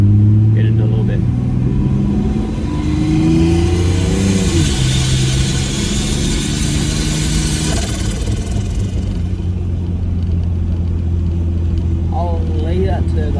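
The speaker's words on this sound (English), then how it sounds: "Holy, that turbo's loud." A Nissan Patrol with a Barra engine and a larger turbo pulls hard through the gears, loud turbo whine and engine roar sweeping up and dropping at each shift, with people talking over it inside the cabin.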